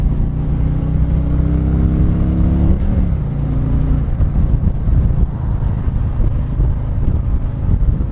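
A 2019 Harley-Davidson Street Glide 107 cruises at highway speed, its steady low engine drone loud and constant beneath heavy wind rush, with a brief shift in engine pitch about a third of the way through.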